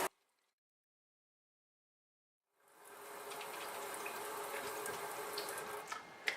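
Lettuce is washed under a running kitchen tap into a sink, a steady splashing gush of water starting after a few seconds of silence and continuing to the end.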